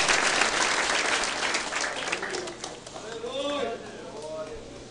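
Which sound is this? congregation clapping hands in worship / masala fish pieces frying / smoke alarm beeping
congregation clapping hands in worship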